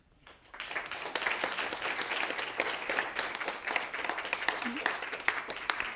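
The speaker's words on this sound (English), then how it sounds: "Someone accused me of on YouTube of dubbing in applause at the end of my lectures." Applause from a lecture audience at the close of a talk breaks out after a brief quiet start. Dense, sustained clapping continues loud and steady to the end.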